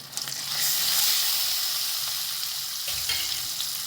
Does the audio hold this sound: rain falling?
no